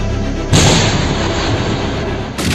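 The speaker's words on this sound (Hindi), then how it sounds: "रॉकेट लॉन्चर से बारूदी अटैक," A loud, abrupt burst of rocket launcher fire and blast noise, roaring steadily for about two seconds before another burst begins.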